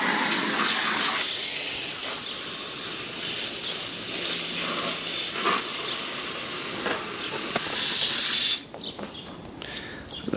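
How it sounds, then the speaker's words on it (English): Steam hisses off an overheated air-conditioning compressor, a loud continuous broadband hiss close by that cuts off abruptly near the end, leaving faint spattering sounds. "Still have steam coming off the side, you see?"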